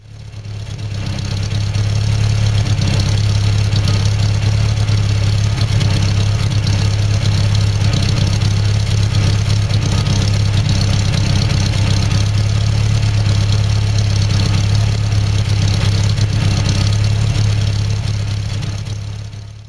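A Land Rover Series 3 engine with a freshly rebuilt distributor idles steadily and smoothly, a loud, even low rumble that holds for the whole stretch with no voices.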